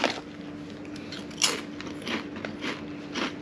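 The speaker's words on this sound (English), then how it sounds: "You got the kerupuk, your chips, cassava chips, anything crunchy." Crunchy Indonesian snacks such as kerupuk and cassava chips are bitten and chewed, giving sharp crackling crunches at irregular intervals, up close and without talk.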